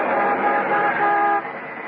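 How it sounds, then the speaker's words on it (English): A big truck passes close by a stopping car in a radio drama street scene, a loud, sustained engine roar with a horn-like tone that drops off near the end. "As I pulled to a stop, a big passing truck nearly sideswiped me."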